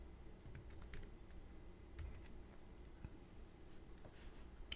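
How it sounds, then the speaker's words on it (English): Typing on a new computer keyboard produces scattered, faint key clicks in irregular bursts over a low background hum. "That's why it's taking time to type."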